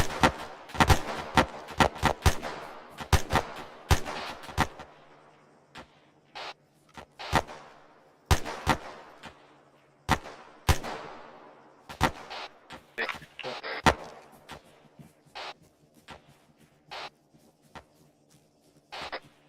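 Gunfire in the military shooter Arma 3 during a training session: many sharp reports, some in quick bursts and others single and spaced, echoing with distant-sounding tails at a steady moderate loudness, with faint voices now and then.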